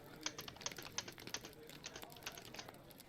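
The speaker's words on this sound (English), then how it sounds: "I'm actually going to type things in the chat box here for us to be able to see things." Quick clicking keystrokes on a computer keyboard, typed in short irregular bursts with clustered taps, quiet and close with no talking over it.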